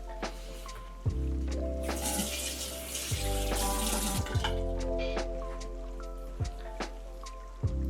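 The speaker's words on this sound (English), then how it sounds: "Now I'm gonna wash this all off." Running tap water splashes into a sink as a face is rinsed, a steady close wash broken by a few sharper splashes and drips, with no talking.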